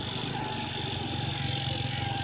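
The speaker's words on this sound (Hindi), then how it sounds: "ये छोटा भांजा ये मोटरसाइकिल चला रहा है अभी" A small motorcycle ridden by a boy on a cold, windy road while carrying a can of drinking water, its engine a steady close drone with constant road rumble throughout.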